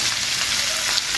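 Spices with salt, turmeric and sugar fry in a pan, making a steady, close hissing sizzle that runs unbroken without any talk.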